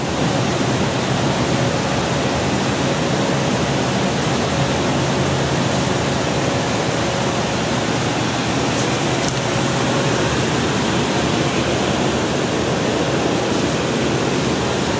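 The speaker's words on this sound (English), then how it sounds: "Big sander, got lots of power." Big old, powerful sander running in a millwork shop, a loud, continuous broadband roar holding steady throughout with no pauses.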